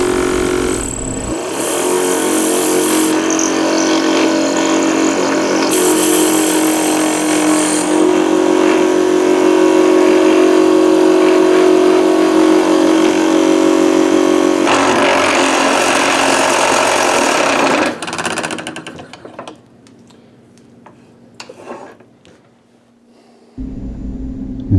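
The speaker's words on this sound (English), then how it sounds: "Drilling the blanks is a process, and you just got to make sure that you get them centered right." Laminated wood pen blanks are bored out with a drill held in a Barracuda chuck, making a loud, steady motor whine with a grinding tone for around eighteen seconds before it cuts off, leaving faint clatter and quiet handling noises.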